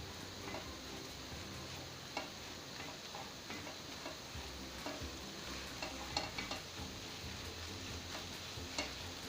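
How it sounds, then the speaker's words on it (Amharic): Kulet frying in a pot with added butter, making a faint, soft sizzle with light stirring scrapes and small ticks scattered throughout, and no talking. "ቅቤ ጨምርና እንደገና ትንሽ ጠበስ ጠበስ አድርገዋለሁ ማለት ነው"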